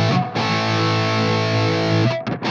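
Electric guitar through a Bogner Shiva amp model with a boogie-style drive and heavy reverb, one sustained distorted chord ringing loud and steady for about two seconds before being cut off, followed by a brief string scrape.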